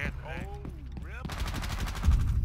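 Rapid automatic gunfire in Rainbow Six Siege, a dense burst of loud shots following sweeping electronic game tones, with a voice briefly underneath.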